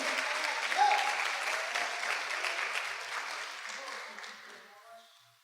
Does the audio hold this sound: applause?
yes